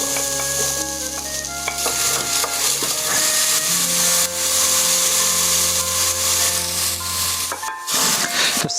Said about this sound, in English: We're gonna put some olive oil into the saucepan or a pot, whatever you're using. Then we're gonna add our onions.